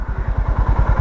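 A Honda Highness 350 motorcycle idles close by with a steady, even thumping beat, loud and alone with no talk.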